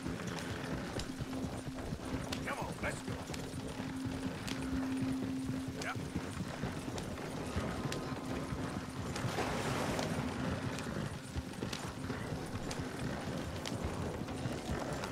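Horses galloping in Red Dead Redemption 2, a steady fast clip-clop of hooves over a constant rumbling bed of wind and movement, continuous and fairly even throughout, without pauses.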